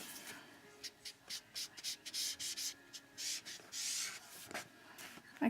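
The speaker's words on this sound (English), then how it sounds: "I'm just going to make sure that it's all rubbed in together." Ink being rubbed into a flat mailbox surface, a series of short, soft scrubbing strokes in an uneven rhythm, close and faint, with no talking.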